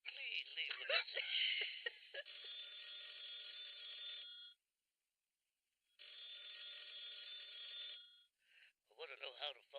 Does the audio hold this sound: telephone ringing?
yes